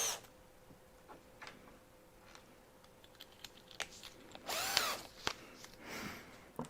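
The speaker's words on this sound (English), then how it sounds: "I've got a drill here with a drill bit in it" A power drill whines in short bursts boring a clearance hole, with a louder sustained run near the end, amid clicks and handling noises close by.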